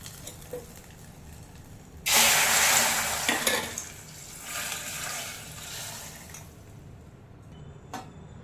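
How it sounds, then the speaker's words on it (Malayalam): Hot tempering is poured into gooseberry rasam, and a sudden loud hiss and sizzle bursts out. It fades over a few seconds, swells briefly again, then settles into quiet with a faint clink near the end. "നമുക്ക് ഈ താളിച്ചത് ഇതിലോട്ട് രസത്തിലോട്ട് ചേർത്ത് കൊടുക്കാം"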